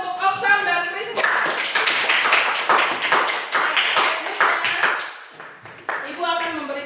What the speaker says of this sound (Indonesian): sekali lagi tepuk tangan untuk Oksan dan Priska